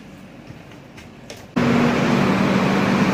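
Inside the AC two-tier coach of train 04274 running from Gandhinagar Capital to Varanasi: a quiet stretch gives way abruptly to a loud steady rushing roar with a low droning hum, which continues without a break.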